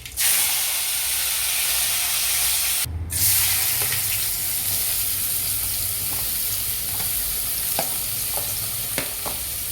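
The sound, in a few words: mustard seeds, cumin and curry leaves sizzling in hot oil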